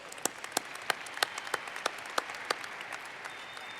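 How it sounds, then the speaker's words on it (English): Scattered applause from a modest crowd at a university commencement, individual claps distinct and fairly regular, steady for a few seconds before thinning out. "give them another round of applause"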